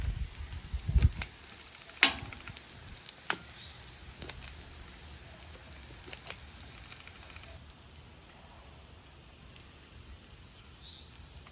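Butter sizzling on a freshly cleaned Weber griddle heating up for pancakes, a steady soft frying hiss with a few sharper crackles near the start, then settling into a quieter even sizzle.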